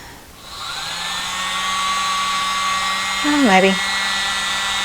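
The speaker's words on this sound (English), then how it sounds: "I don't think the blower is going to be strong enough, but we'll give it a try first." A blower drying acrylic paint runs as a steady, loud, high-pitched whir throughout, with a short change in tone near the end and a brief spoken word over it.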